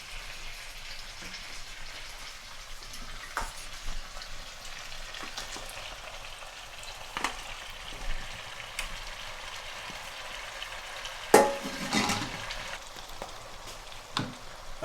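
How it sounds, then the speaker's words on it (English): Tomatoes sizzle and fry in a hot karahi while chicken karahi cooks at a Lahore street food stall, a steady crackling hiss with a louder burst of spatter partway through. "So I'm going to add tomatoes to it now."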